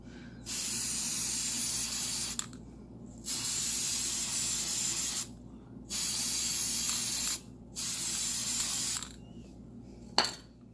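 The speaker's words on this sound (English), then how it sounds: "I'll put some disc quiet on it." Aerosol can of Disc Quiet sprayed onto brake pads during a 2002 Toyota Camry brake job: four sharp hissing bursts, each about one to two seconds long, with short silent gaps between, close and loud.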